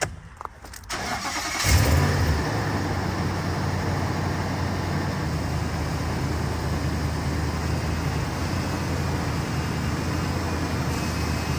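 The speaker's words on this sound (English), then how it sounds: "we'll just start the truck." A 2004–2015 Nissan Titan pickup truck engine cranks briefly and catches, then settles into a steady, close idle rumble that continues alone.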